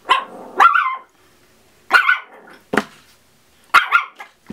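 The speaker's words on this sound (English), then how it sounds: "I have no idea what he's barking at." A dog barks nearby in short bursts, about five sharp barks spaced irregularly with brief silences between them.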